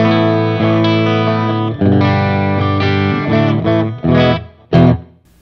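A sustained electric guitar chord on its clean tone rings out, then a few shorter strummed chords follow with brief gaps, ending abruptly; the tone sounds fairly saturated rather than fully clean.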